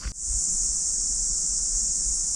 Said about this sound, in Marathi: ते किडे असतात ना त्यांचा स्वतः आवाज येते